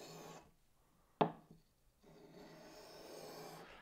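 The bevel of a carving axe being rubbed across a sharpening stone, with faint scraping strokes broken by short pauses and one sharper knock as the blade lands on the stone, all close and quiet.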